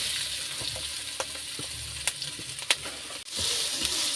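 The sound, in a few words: onion, garlic and dried red chili frying in hot oil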